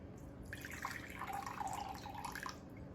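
Water is poured into a measuring container to reach 100 milliliters, a steady splashing trickle with a faint drip-like texture, heard alone without talk.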